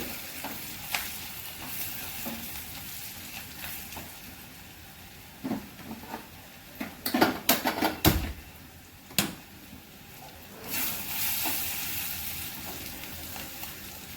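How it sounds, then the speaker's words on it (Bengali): Ground cumin, dried chili powder and raisins fry in a pan for mung dal, with a soft steady sizzle, stirring scrapes, and a cluster of sharper clatters midway. "এবার একটু কষিয়ে নেব।"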